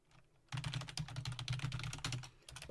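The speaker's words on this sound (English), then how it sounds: "click on the enter key again." Rapid typing on a computer keyboard, with a dense run of sharp, close key clicks in an uneven rhythm following a brief quiet start.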